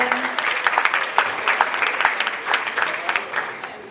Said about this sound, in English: Give yourself a big hand clap.